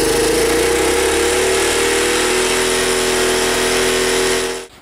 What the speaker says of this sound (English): it's just revving way too high